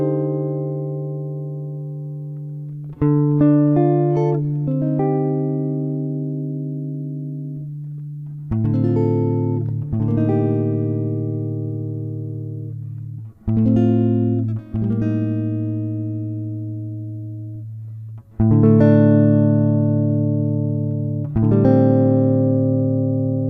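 Jazz guitar plays a chord melody intro over a sustained A pedal tone, with clean chords struck every few seconds and left ringing as each slowly fades, played alone without speech.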